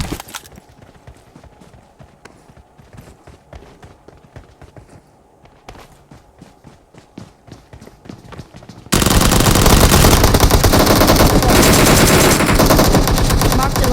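Gunfire in a multiplayer shooter: sparse rapid shots and clicks under quiet play for most of the stretch, then a loud dense burst of continuous fire and noise fills the final several seconds.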